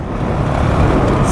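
A Honda CRF450RL motorcycle engine rises under throttle on a rocky trail ride, producing a loud, close, continuous low rumble across the whole short stretch.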